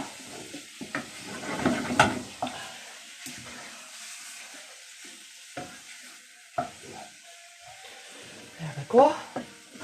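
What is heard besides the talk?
beef browning and sizzling in a pan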